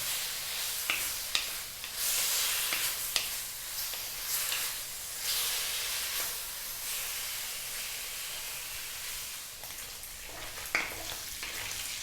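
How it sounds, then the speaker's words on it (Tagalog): Pork belly pan-frying for humba, a steady bright sizzle and hiss with occasional sharper pops and spits, close and continuous throughout with no talking. "Ipa-pan-fried ko lang po siya ng mga 5 minutes."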